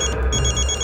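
A telephone rings with an incoming call inside a home, a steady, bright electronic ring pulsing repeatedly over a low background hum, with no voices.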